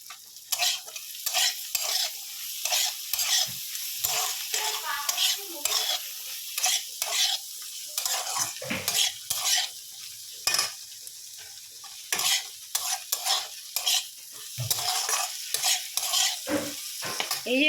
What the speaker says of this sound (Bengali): একটু ভালো করে ভেজে নিচ্ছি।